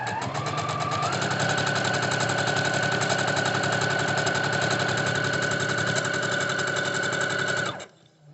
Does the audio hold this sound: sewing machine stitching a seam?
yes